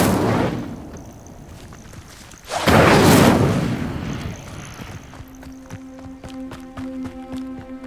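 A fire spell cast in a Hogwarts game opens with a roaring whoosh that swells into a loud burst of flame, then fades into a sustained tonal shimmer.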